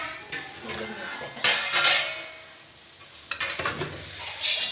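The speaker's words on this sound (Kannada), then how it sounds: "ಬೋಂಡ ಬೇಯ್ತಾ ಇದೆ" Bonda fries in a pan, a soft sizzle beneath repeated clinks and scrapes of utensils against the cookware, close and fairly quiet, with brief bursts of clatter.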